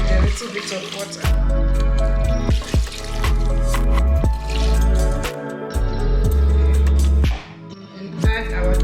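Water is poured into a pot of blended rabbit, guinea fowl and cabbage light soup, giving close, loud splashing and gurgling in uneven bursts.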